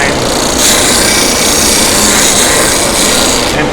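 A wooden spin-top handle rubs steadily against sandpaper in a continuous, close rasping scrape, loud and unbroken throughout with no pauses.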